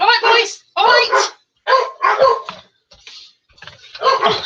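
Indoor dogs keep barking after the postman has left, loud close barks in short bursts with brief pauses, mixed with a voice speaking to them.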